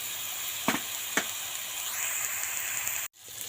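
Eggplant fries in hot oil with green chilies: a steady, close sizzle runs throughout, broken by a couple of sharp crackling spits and a brief cut near the end, with no talking.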